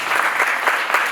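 A church congregation claps for Jesus, a short, loud burst of many hands clapping together in a steady rhythm, close and without voices.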